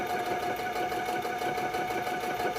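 A sewing machine stitches a quilt square with a fast, steady mechanical hum and rapid needle chatter, close and continuous throughout.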